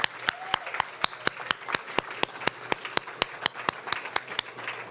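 An audience at a faculty presentation applauds a presenter, with sharp, evenly spaced claps standing out over a softer wash of scattered clapping, steady and moderately close throughout.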